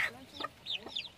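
Newly hatched chicks on a farm garden plot give a few short high peeps and chirps in quick succession, close and fairly faint, with no voices over them.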